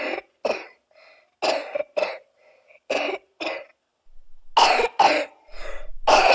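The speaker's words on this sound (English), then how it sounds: "That cough is making me sick." An animated character coughs repeatedly in short, harsh bursts, grouped in pairs and clusters with brief pauses between them, sounding close and clear.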